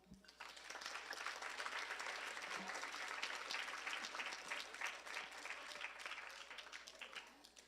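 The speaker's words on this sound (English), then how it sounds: "A big applause." An audience applauds at an evening Guru Poornima gathering, with steady, dense clapping rising quickly and holding for several seconds before tapering slightly, heard somewhat distant and alone.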